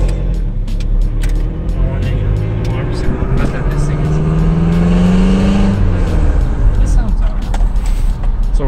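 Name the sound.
Toyota Tacoma engine revving through exhaust cutout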